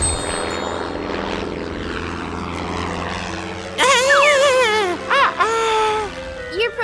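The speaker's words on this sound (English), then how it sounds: "Your propeller was too strong." A cartoon propeller airplane drones steadily for several seconds, then sharp warbling, wailing vocal-like sounds cut in over the engine, as if someone cries out.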